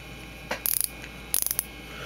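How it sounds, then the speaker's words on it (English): Aluminum star drag on a Daiwa Lexa 300HL baitcast reel clicking in two short bursts of quick, crisp ratchet clicks, close up and fairly quiet, with a brief pause between them and no talk. "It's got a star drag made of aluminum with the clicks."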